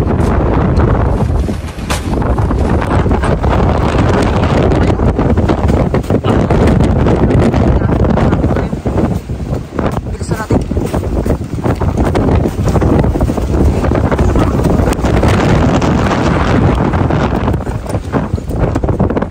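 Strong wind buffets the microphone with loud, constant roaring and rumbling gusts throughout, drowning out other sounds.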